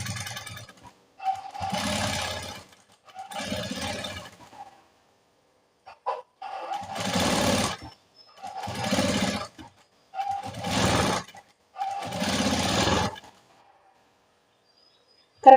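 A sewing machine stitches piping in about six separate whirring bursts, each lasting a second or two, with short quiet pauses between them, heard close and clear.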